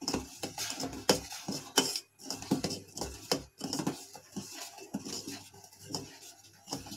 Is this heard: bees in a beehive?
no